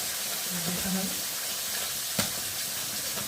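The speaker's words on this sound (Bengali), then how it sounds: "চলো আমি মাছগুলো ভেজে নিই" Fish fry in oil in a kadai for a potol fish curry, a constant close sizzle with a single sharp clack partway through and a voice faintly murmuring early on.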